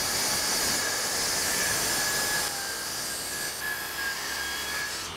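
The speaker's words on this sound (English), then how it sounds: "I'm just going to use my track saw to actually cut this down" A track saw cutting through a wooden dining table top, a steady high whining buzz with a broad hiss that drops slightly halfway through, close and without talk.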